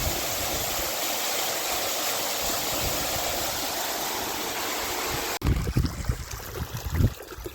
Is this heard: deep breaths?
no